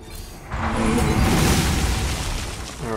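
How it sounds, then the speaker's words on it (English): Arcane explosion spell from the video game Hearthstone: a broad, rumbling magical blast swells in after a brief lull and holds loud and full for a couple of seconds before easing off. "why don't you use your arcane explosion?"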